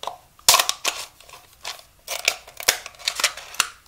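Scissors crunch through a clear plastic cup in a quick run of loud, crackling cuts, close up with brief pauses between snips.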